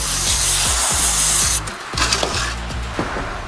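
A toothbrush scrubs the grime off an old, beat-up German carburetor from a 1963 Volkswagen dune buggy that sat abandoned for 12 years. The bristles make loud, steady rubbing close by, with a low mechanical hum underneath that drops away partway through.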